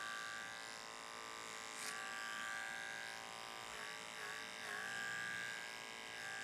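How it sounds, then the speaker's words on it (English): A detachable blade hair clipper buzzes steadily during a men's short haircut, its hum shifting slightly as it moves through the hair, fairly faint and close. "one of these clippers handy, the detachable blade clipper"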